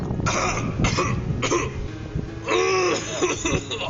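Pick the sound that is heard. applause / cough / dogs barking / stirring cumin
cough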